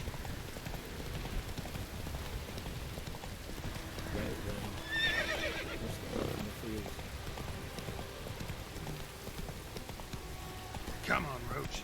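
Roach the horse neighs briefly in The Witcher 3 over steady clip-clop hooves and falling rain, while someone speaks.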